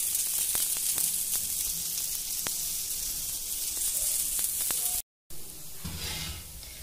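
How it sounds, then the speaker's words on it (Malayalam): Oil poured onto a masala dosa on a hot pan, giving a steady, loud crackling sizzle with occasional pops that cuts out briefly before resuming. "ഇതിന് മുകളിലൊന്ന് കുറച്ച് ഓയിൽ ഒഴിച്ചു കൊടുക്കണം"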